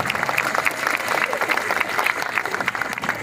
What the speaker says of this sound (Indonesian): Tepuk tangan buat semua masyarakat Biak Numfor.